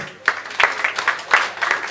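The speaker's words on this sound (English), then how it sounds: "So round of applause" Scattered applause from an audience honoring a hackathon team, a handful of sharp claps spaced irregularly over a low hum, moderately close.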